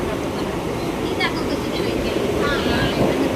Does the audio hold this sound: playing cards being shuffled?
no